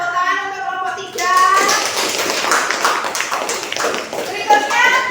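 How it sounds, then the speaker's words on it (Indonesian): Students in a classroom clap for a group that has just presented, a short burst of hand claps starting after a brief spoken moment and continuing with children's voices mixed in. "Tepuk tangan untuk kelompok 3."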